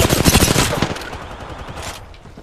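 Gunshots in the battle royale shooter Apex Legends: a burst of loud, rapid shots up front that tapers into scattered, fainter fire and echoes, with no talk.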